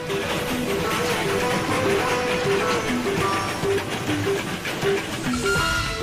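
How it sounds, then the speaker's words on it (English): A Darjeeling Himalayan Railway narrow-gauge hill train in India rumbles along steadily, with a rhythmic clatter of wheels on track and a continuous hiss, no voices. "The Darjeeling Himalayan Railway was the very first hill railway in India."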